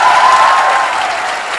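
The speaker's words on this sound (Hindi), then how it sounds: "तो सर का जोरदार तालियों से स्वागत।" Classroom audience gives a brief, loud burst of clapping to welcome a visiting official, dense and close.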